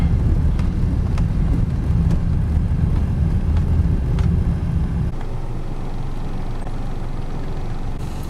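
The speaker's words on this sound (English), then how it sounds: "this is the common vehicle that's used for farming work and anything for carrying heavy loads" A Cambodian farm vehicle for heavy loads, driven by a front-mounted Honda engine, chugs loudly and close with a rough low drone and regular knocks, then settles to a softer idle partway through.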